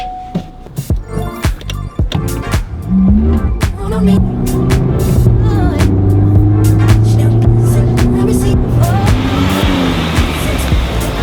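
A Honda Civic Type R FL5 runs on a Mustang dyno indoors, engine note climbing steadily through a long pull after a few brief blips, loud and close, with people talking briefly at the start.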